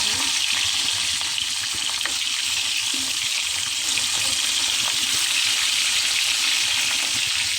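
Fish fry in hot oil, a constant dense sizzle and hiss filling the whole stretch, close and even, with no talk over it.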